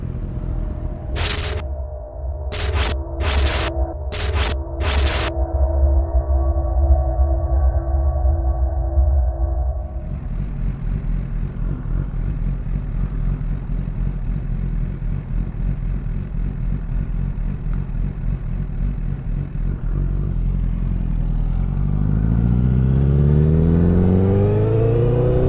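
A motorcycle engine runs steadily on a first ride of the year, a constant close rumble with wind noise, swelling louder and rising toward the end as the bike accelerates.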